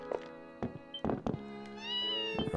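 A cat in the Ys Seven game meows several times in short, uneven bursts, close and clear, with a longer drawn-out cry near the end and no talking.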